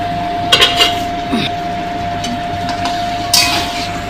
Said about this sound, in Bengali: এবার আমি ঢাকাটা দিয়ে দিলাম মাংসটা আস্তে আস্তে একটুখানি কষা হোক